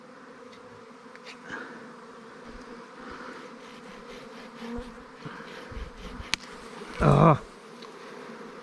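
A swarm of bees clustered high up on a tree limb gives off a steady, moderate buzz throughout, with a short loud burst near the end and a brief exclamation from a voice.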